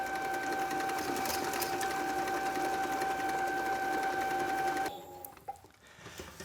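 An electric mixer whisks pastry batter at high speed, a steady close whirring hum with a bright tonal whine that stops abruptly near the end, followed by a few faint clatters.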